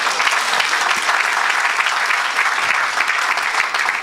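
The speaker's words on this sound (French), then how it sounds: "Mais quelqu'un acclame Jésus" Steady, dense applause from a church congregation acclaiming Jesus during a service, continuous and loud throughout without pause, with no clear voices standing out above the clapping.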